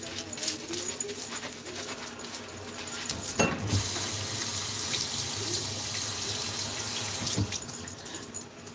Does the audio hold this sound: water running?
yes